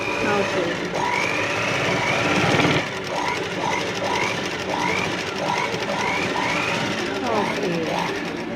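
A household sewing machine stitches a zigzag picot hem with a steady, rapid mechanical chatter, close and fairly loud, while a voice talks over it.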